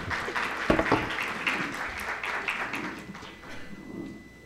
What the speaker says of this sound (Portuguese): Uma salva de palmas para o mestre de cerimônia